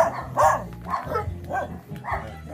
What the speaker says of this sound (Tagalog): Yung mga aso, eh, parang gusto kaming angkitin.